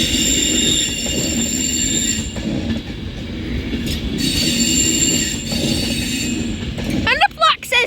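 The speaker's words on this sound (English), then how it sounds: "390115, as mentioned, which is departing Manchester Piccadilly now with the 1455 Avanti West Coast service to London Euston" Avanti West Coast Class 390 train, unit 390115, pulling out of Manchester Piccadilly on a service to London Euston, a steady close rumble with rail noise throughout and brief wheel squeals near the end.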